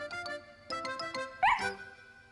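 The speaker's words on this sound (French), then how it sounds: "C'est alors que Snuffy, qui attendait dehors, aboya joyeusement." A cartoon dog barks joyfully in a children's animated show, giving a few bright yips over a light musical backing, ending in a louder excited bark.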